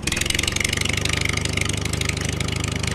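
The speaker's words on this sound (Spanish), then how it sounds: "creo que puedo conducir un tractor" A tractor engine runs at a steady, throbbing idle, loud and close with an even pulsing chug and no other sounds over it.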